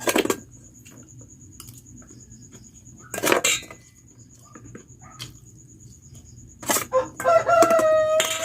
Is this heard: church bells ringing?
no